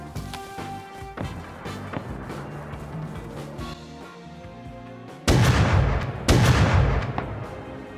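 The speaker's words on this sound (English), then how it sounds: "They're literally shotgun raiding my TC." Shotgun blasts ring out during a base raid in the Rust video game, scattered sharp reports early on, then two louder, heavier bursts of gunfire close by near the end, with no talk.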